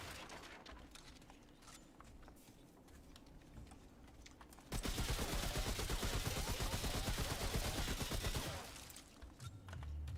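Sustained rapid-fire gun bursting for about four seconds in the sci-fi shooter game Remnant, a dense loud stream of shots following quieter scattered clicks and background game noise.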